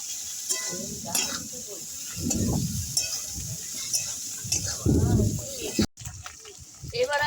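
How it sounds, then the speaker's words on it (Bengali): Potatoes stir-fried with green chillies, chilli powder and spices in a pan: a close sizzle under scraping stir strokes and some low rumbling handling noise, with a brief drop-out near the end. "কাঁচা লঙ্কা দিয়ে আমি আলুর সঙ্গে মশলাটা ভালো করে কষিয়ে নেবো"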